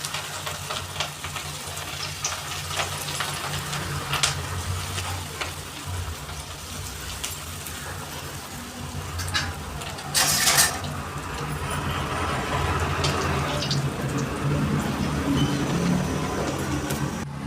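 Cauliflower pakoda pieces frying in hot oil, a steady dense sizzle running throughout with occasional louder bubbling bursts and faint stirring, close and fairly loud.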